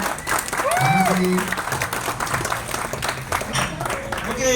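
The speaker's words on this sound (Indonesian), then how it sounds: "Tepuk tangan yang keras teman-teman." A crowd at a corporate launch event applauds steadily through the whole stretch, with a voice talking over the clapping and a brief tonal sweep near the start.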